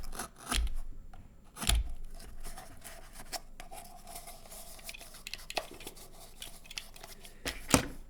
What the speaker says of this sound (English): Make sure the blade is a bit long so that you can get this sort of real cutting movement.